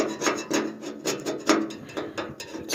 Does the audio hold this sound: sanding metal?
yes